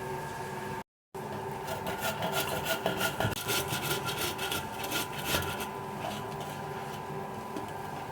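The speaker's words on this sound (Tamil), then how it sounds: "இதுக்கெல்லாம் பெரிய ஷேப்ஸாக பார்த்து நம்ம அதை வந்து துருவி எடுத்துக்க போகிறோம்" Cassava root being grated by hand on a grater, with rapid, repeated rasping scrapes at close range in a steady rhythm and no talking.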